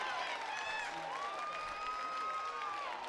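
Crowd at a Lethbridge Bulls baseball game applauding and cheering after a single into left field, a steady wash of clapping and voices at moderate distance with whistles rising above it.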